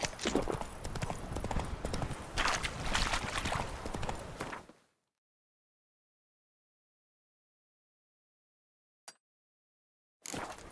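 Roach the horse gallops in The Witcher 3: Wild Hunt, hooves pounding loud and dense for about five seconds before cutting to silence, then a brief click and the hoofbeats resuming near the end.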